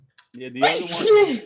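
A person sneezes during an online book club meeting, a sharp burst breaking in mid-conversation, close and fairly loud with voices talking around it.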